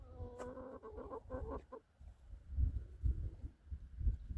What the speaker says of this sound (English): So that's our chickens.